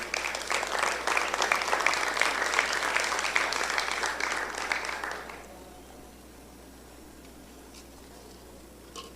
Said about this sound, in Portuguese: Pode aplaudir Jesus por isso, que é lindo isso daí.